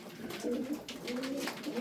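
Turkish tumbler pigeons, kept as display birds, coo in soft, repeated low throaty phrases close by, with no talking.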